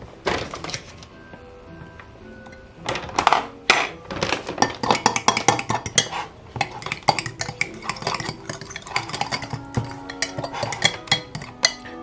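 A spoon stirring almond flour into cheesecake pancake batter in a bowl, quiet at first, then a busy run of close, irregular clinks and taps against the bowl.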